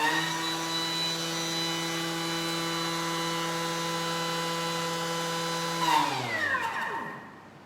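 A food mixer whirs at top speed 10 while making a tropical cake batter, a steady, loud motor drone that holds for several seconds, then winds down and fades to quiet near the end.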